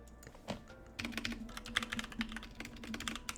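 Fingers clatter across a computer keyboard in quick, uneven bursts of keystrokes, close and moderately quiet, with a brief pause before a denser run of typing.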